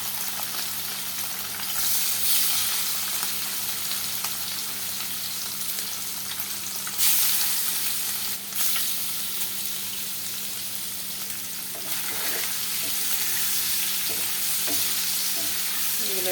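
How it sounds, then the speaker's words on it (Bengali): Cut boiled eggs coated in beaten egg frying in a pan, a steady close sizzle with occasional stirring scrapes and brief louder bursts, no one talking. "এগুলো একটু ফ্রাই করে নেব এখন সুন্দর করে"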